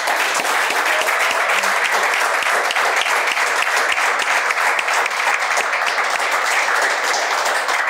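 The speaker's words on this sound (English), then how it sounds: "clap their hands for you" Sustained audience applause for a domestic violence survivor, loud dense clapping from many hands, steady and unbroken throughout.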